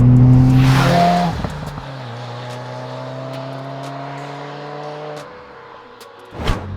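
A Subaru WRX/STI with an MBRP aftermarket exhaust revs hard up close, then the note drops and holds as a steady droning idle before a brief blip near the end.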